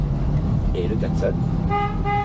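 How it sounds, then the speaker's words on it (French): A 1970 Renault R6 gives a short honk of its horn over the loud rumble of the running car's interior, with people talking close by. "Et le klaxon."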